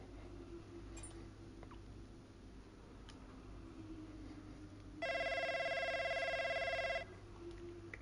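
A telephone rings in an F1 racing career game, a bright electronic trill lasting about two seconds midway through, loud over a steady low background hum.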